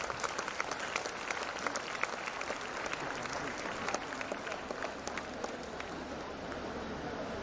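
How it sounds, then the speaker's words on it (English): Audience applause for an award winner at a waste management society ceremony, steady dense clapping from a hall crowd held at a moderate level throughout, with a faint voice briefly underneath. "A big applause to the winner"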